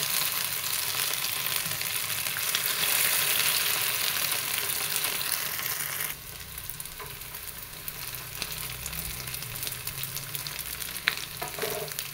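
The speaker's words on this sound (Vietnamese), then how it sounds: "mình cho cái sườn đông chay vô mình chiên trong lửa trung bình" Vegetarian ribs fry in a pan of oil over medium heat, giving a continuous close sizzle with crackling. Partway through it drops suddenly to a softer, steadier hiss.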